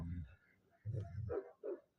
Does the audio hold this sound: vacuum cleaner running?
no